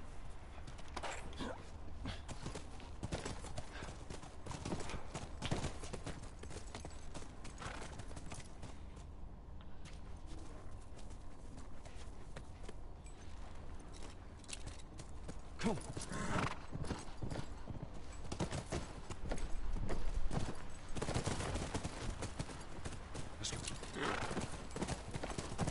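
Horses clip-clop at a steady walking pace with occasional neighs and whinnies in The Last of Us video game, hooves moderately loud and continuous over ambient outdoor noise, without speech.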